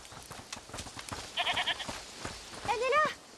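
A goat bleats twice in A Plague Tale: Requiem, wavering calls rising over soft background talk and ambient game sound, the second call louder and more drawn out.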